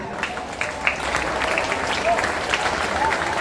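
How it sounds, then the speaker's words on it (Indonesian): Crowd applause for scouts at a school Scout Day ceremony, a steady wash of clapping from a gathered audience, moderately loud and continuous throughout with a voice faintly audible. "Tepuk tangan juga."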